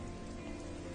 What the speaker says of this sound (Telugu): ఇంత వర్షంలో వెళ్ళడం అవసరమా?